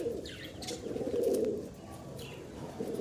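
Pigeons coo softly and steadily in a loft, with a few faint chirps and wing rustles nearby.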